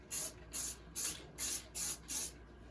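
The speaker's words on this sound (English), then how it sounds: "I've just got some spray lacquer that's just a clear" Clear lacquer sprayed from an aerosol can in six short, evenly spaced hissing bursts, close and fairly quiet, with brief pauses between them.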